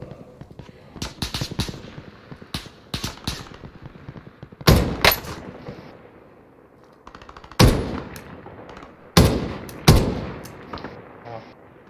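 Gunfire from a video game played with friends, a first-person shooter with iron sights: scattered shots and short bursts, several loud close reports standing out among quieter rattling fire, with a voice talking faintly in places.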